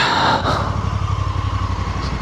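Honda Africa Twin motorcycle engine idling steadily up close, a low continuous throbbing rumble with no voices.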